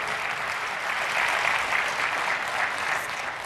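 An audience at a conference session on Microsoft Exchange Online Protection applauds, a sustained, even wash of many hands clapping together, fairly loud throughout.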